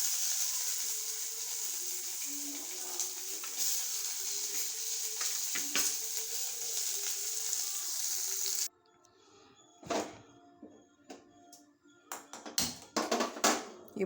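Cumin, onion and tomato sizzle loudly in a hot pan for about nine seconds in a home kitchen, followed by quieter clinks and taps of a utensil against the pan.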